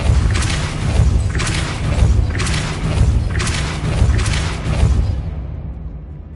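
Depulso spell cast again and again in the video game Hogwarts Legacy, giving about five loud, booming blasts roughly a second apart before the sound fades out.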